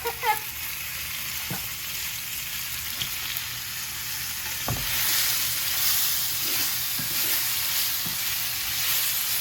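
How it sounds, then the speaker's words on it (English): Steady sizzling and crackling of chicken stir-frying in a hot pan, with occasional scrapes and clanks of a spatula stirring it, no talking. "I'm stirring it while frying it and not just letting it sit."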